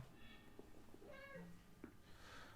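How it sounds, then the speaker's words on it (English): A pet cat meows repeatedly for attention, a few drawn-out rising and falling calls close to the microphone over a steady background hiss. "My little cat needs attention."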